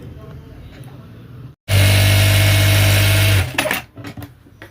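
A Jack A2 industrial sewing machine stitches through sixteen layers of folded fabric in one loud, steady, close burst of under two seconds. Quieter handling noise and a voice are heard before and after the run.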